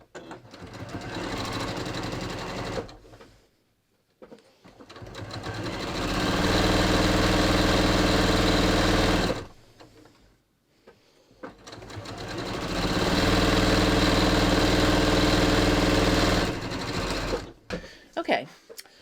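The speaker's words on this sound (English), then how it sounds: "So I'm just going to sew this." A sewing machine stitching fabric strips together along a seam, two long steady runs of close mechanical whirring separated by short pauses, with brief quiet gaps at the start and end.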